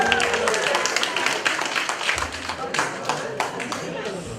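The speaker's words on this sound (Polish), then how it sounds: "Gorące brawa dla naszego kandyka." Audience applause for a costumed baby boy, dense steady clapping from a crowd throughout, fairly loud and close, with voices mixed in underneath.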